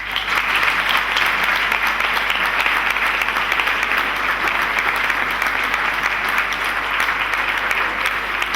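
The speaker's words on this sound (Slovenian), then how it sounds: "za katerega prosim močan aplavz." A theatre audience at a stage production of The Little Mermaid gives sustained, even applause for a famed court composer and his orchestra. The clapping is thick and unbroken from start to finish.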